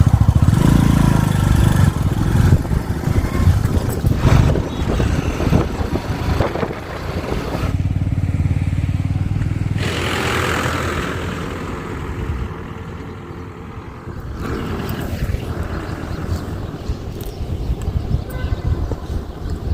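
A loud, steady wheat harvester engine drones close by throughout in a field beside a road. It changes tone midway as if the machine moves or shifts load. No voices are heard.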